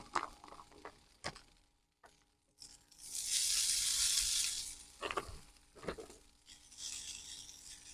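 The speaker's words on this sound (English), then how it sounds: "Hear that sizzle?" Hash brown patties sizzle in a hot pan for a breakfast sandwich, a loud bright hiss swelling for about two seconds amid scattered clatter and scraping, then settling into a quieter crackle.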